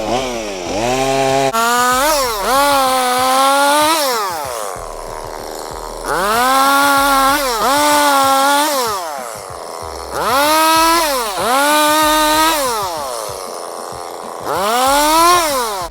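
A chainsaw, either a Stihl MS170 or an Ozito battery saw, cuts wood up close, its motor repeatedly revving up under load and dropping back in several long bursts, with no talking.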